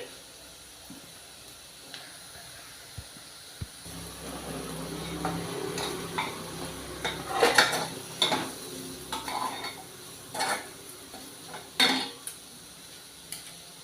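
Crushed garlic cloves drop into a frying pan, then a spoon stirs them with clinks and scrapes over a faint hiss and sizzle, the clatter peaking in a few louder bursts.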